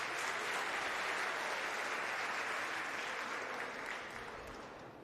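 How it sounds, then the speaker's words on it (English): An audience claps steadily at an agricultural awards ceremony, a dense, sustained round of applause that slowly fades toward the end. "Give her a round of applause, ladies and gentlemen."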